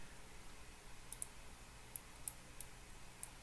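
Faint, sharp mouse clicks, about half a dozen spaced unevenly over low steady background hum, with no voice present.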